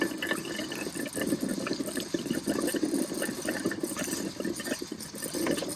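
Water mixed with compressed air gushing and sputtering out of an RV water line during winterizing, a steady turbulent rush with irregular bursts, fairly close and continuous without talk.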